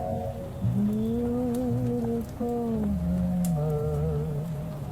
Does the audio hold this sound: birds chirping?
no